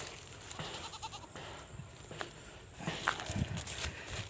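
Goats around a pen bleat in short, faint calls over a quiet background, with footsteps and shuffling nearby.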